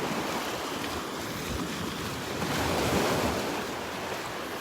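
Waves roll steadily onto the flat sand of Delnor-Wiggins beach in a dense, continuous wash of surf that swells slightly midway, with wind rumble on the microphone and no one speaking.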